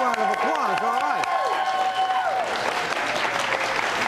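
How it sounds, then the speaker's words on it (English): A studio audience claps for a baker on a television talk show, steady close applause that swells after a brief stretch of talk at the start. "Now, let's give this woman a round of applause."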